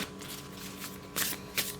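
Tarot cards are shuffled by hand close up, a soft papery riffle with two sharper bursts near the end, and no talking.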